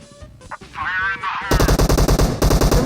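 Automatic gunfire in the battle royale game PUBG Mobile: a loud, rapid, evenly spaced burst of shots that runs steadily for over a second, following a rising engine-like whine.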